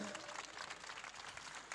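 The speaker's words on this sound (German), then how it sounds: "euer Applaus bitte" Applause from a fan-talk audience at a Berlin basketball event, a steady dense patter of clapping throughout, fairly faint and even with no voices on top.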